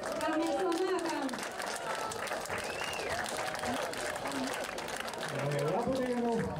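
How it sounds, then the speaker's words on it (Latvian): Audience applause welcoming the council chairman to open a tournament at a stadium in Olaine, a steady wash of clapping with crowd voices and chatter mixed in throughout. "Sagaidām ar aplausiem."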